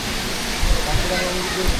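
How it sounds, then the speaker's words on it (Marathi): A waterfall at the Ekvira temple fort gives a steady broadband rush of falling water, moderately loud and continuous, with faint voices mixed in. "इकडं बाबा बघा लेफ्ट साईडला काय मस्त धबधबा आहे"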